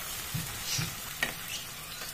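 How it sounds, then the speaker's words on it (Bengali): Onions frying in a pot, a continuous close sizzle with a few soft stirring knocks and scrapes, no talk over it. "পেঁয়াজটা একটু ভেজে দিতে হবে"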